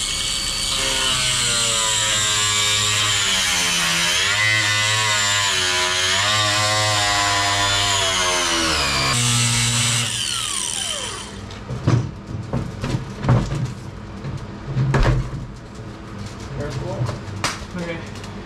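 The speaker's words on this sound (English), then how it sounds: "when you're using your angle grinder, it's molten plastic getting shot out" An angle grinder cuts through a plastic bumper on a Lexus GX460 during an Ironman premium bumper install. A steady, loud motor whine runs for about nine seconds, then stops and gives way to scattered clunks and knocks.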